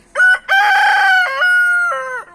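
A rooster crows up close and loud, a single full cock-a-doodle-doo with a brief opening note and a long drawn-out call that falls away at the end.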